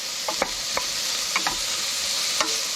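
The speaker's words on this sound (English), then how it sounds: "Now he's going to slowly cook the onion," Onions cook slowly in a pot over a camp fire with a continuous, even sizzle close by, broken by a few sharp clicks of stirring scattered through; no voices.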